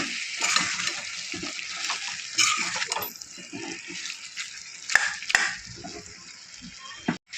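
Chicken fry being stirred in a pan with coriander powder, chilli powder and garam masala, soft scraping and gentle sizzling in irregular strokes, close and moderately quiet, with a sharper clatter near the end.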